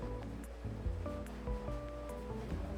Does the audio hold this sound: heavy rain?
yes